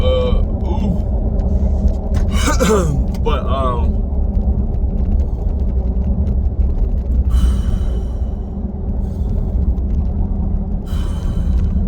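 A steady low engine and road rumble fills a moving car's cabin, even and continuous, with faint voices briefly surfacing above it.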